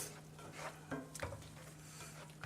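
Steak Diane sauce with flat-leaf Italian parsley simmering in a pan on the stove gives a soft, steady sizzling hiss, broken by a few light clinks of a utensil against the pan; no one speaks.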